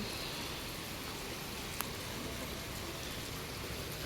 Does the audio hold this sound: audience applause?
no